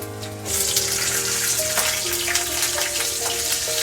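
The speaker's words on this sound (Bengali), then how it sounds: "এই সমস্ত উপকরণগুলি আমি একটু ভেজে নিচ্ছি" Black cumin seeds, garlic and green chillies sizzle in hot oil in a pan, a steady, close hiss that rises abruptly and then holds at an even level throughout.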